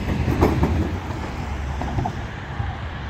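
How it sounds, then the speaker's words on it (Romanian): Tram running on its tracks at the end of a line in Arad where construction work is under way, a steady close rumble with some rail clatter and faint wind, no talk. "Haideți că merge tramvaiul să se întoarcă"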